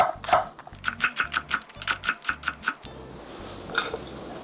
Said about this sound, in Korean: 대파 반으로 자르고요, 쫑쫑 썰어주면 됩니다.